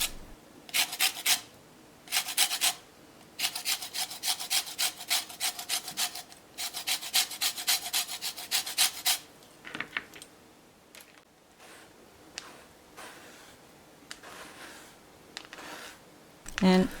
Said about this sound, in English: Zest the lemon.